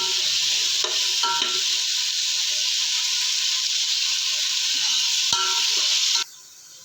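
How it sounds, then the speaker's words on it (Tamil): Mutton biryani masala sizzles loudly and steadily in a pot while it is stirred, with a few scraping knocks near the start, until the hiss cuts off abruptly near the end. "இப்போ நல்லா கிண்டி விட்டுலாம்."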